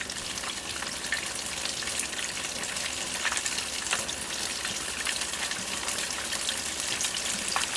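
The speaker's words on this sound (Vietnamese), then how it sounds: "Mình sẽ chiên vàng luôn rồi mới gấp ra." Battered fish fries in hot oil with a dense, steady crackling sizzle and scattered sharper pops, loud and close throughout.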